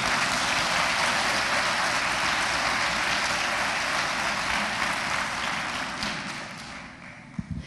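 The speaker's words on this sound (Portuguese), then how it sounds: "Você pode dar uma salva de palmas para Jesus?" Sustained, dense applause fills a large church congregation at the Catedral da Família, steady and loud for several seconds before gradually thinning out toward the end.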